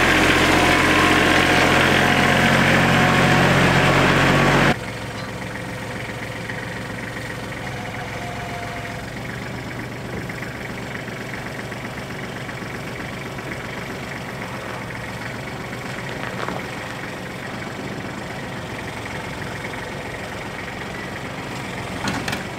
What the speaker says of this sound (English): This tractor always starts up really nice.